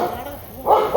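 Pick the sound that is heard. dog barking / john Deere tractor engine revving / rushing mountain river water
dog barking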